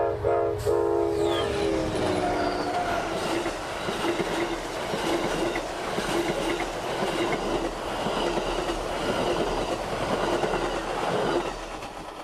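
Amtrak 92 passenger train led by a Charger locomotive passing in Central Florida, its horn sounding early, then a loud close rumble with clickety-clack of wheels and some squeal as the cars roll by.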